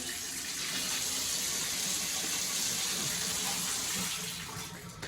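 Water running from a Kohler shower valve after repair, a steady rushing hiss of spray that stays constant, close and loud before easing slightly at the end, with no voices.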